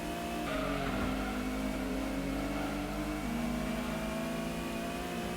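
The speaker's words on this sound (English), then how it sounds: "Of course, the Supra and the Skyline pull away." Engine roar from a Toyota Supra and Nissan Skyline accelerating in Gran Turismo, steady revving tones with shifting pitch, loud and unbroken throughout.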